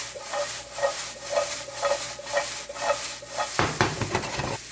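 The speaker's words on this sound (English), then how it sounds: "My heat's on high. I'm just gonna give these a quick 3-minute saute." Onion, bell pepper and broccoli sauté in a pan on high heat, a close sizzle with a rhythmic scraping and stirring pulse about twice a second, then a rougher clatter near the end, with no talk.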